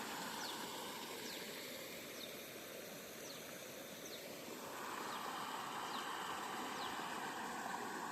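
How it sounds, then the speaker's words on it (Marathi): After sudden village rain, spring water streams down through stones in a continuous rushing flow that swells louder partway through, with faint high chirps above, no talk. "असं पाणी येतं इकडून वरतून दगडायमधून"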